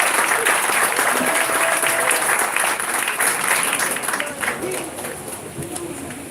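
Audience applause at a live community event, a dense sustained clapping crowd heard up close, loud at first and gradually tapering off, with some voices in the mix.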